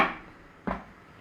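A single soft clunk of a lid set onto a pan, short and close, following a fading bit of noise.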